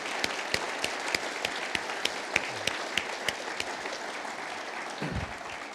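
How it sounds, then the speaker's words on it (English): An audience at the NAIA convention applauds the association's staff. The clapping is steady and sustained, with sharp single claps standing out through nearly six seconds and a brief low thump near the end. "if you'll join me in giving them a round of applause"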